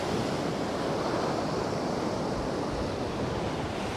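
Ocean surf rolls in a steady, dense roar along an O'ahu beachfront with body boarders and surfers out on the waves during a hurricane, wind buffeting the microphone and no pauses in the wash.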